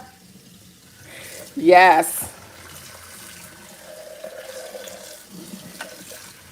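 Tap water runs into a sink while a juicer is rinsed after juicing beets, fruits and vegetables. It makes a soft, steady splashing that continues throughout, and a person briefly says a word over it.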